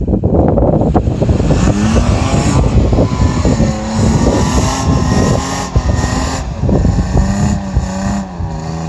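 A 2017 Toyota Tacoma TRD Off-Road with an MBRP turndown exhaust drones loudly and continuously, its engine note rising and falling with throttle and road rumble, close up and without talk.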